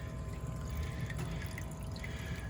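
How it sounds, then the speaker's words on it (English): Water runs steadily through a Flower Gold Wizard 3-inch cleanup sluice driven by a new speed controller, a constant low trickling wash with no voices, close by. "I got my Flower Gold Wizard 3-inch cleanup sluice up and running"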